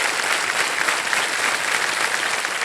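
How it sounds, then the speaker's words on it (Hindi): Studio audience applauding a contestant on a quiz game show, a dense, loud, continuous roar of clapping that stays even throughout. "तालियां बज जाए मृण्मय जी के लिए।"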